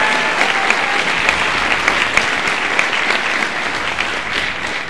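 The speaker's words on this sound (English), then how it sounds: "So big round of applause, Cochran." A school band concert audience at Wantagh High School's winter concert applauds a director, a full, loud and even burst of clapping filling the room without any talking.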